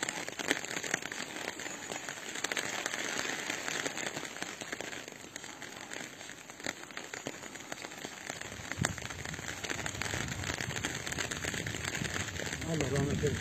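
Steady rain patters on a surface near a rural village road, a dense, continuous hiss at moderate volume with people talking over it.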